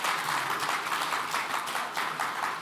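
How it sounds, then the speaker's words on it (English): An audience at the Tech Ascent 2024 tech event breaks into sustained applause: many hands clapping together in a thick, even roar that fills the hall throughout. "So give yourselves a round of applause."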